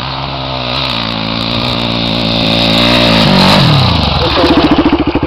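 Several motorcycle engines drone and rev loudly nearby, one rising and then settling into a throbbing, pulsing idle at the end.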